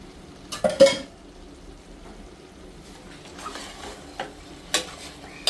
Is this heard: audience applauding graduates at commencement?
no